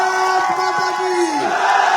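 A crowd at a business rally in Kanpur, Uttar Pradesh, roars back in unison with a loud, drawn-out shouted chant response, a sustained massed cry close and energetic.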